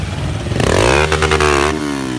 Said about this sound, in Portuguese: As motos tudo juntas não dá certo.